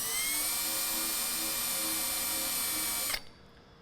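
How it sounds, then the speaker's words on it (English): A high-pitched power drill whines steadily at full speed for about three seconds drilling pilot holes for a snorkel install on a Mercedes Sprinter van, then abruptly stops, leaving a quiet hum. "we're next going to drill some pilot holes"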